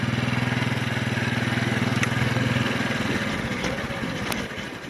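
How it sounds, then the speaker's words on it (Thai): A small motorcycle rides along a rough forest trail, its engine buzzing steadily and close by with a pulsing rhythm, easing slightly toward the end. "เรามอเตอร์ใซคคันเล็ก เราจะไปตรงนี้ ขับรถดีดีกัน"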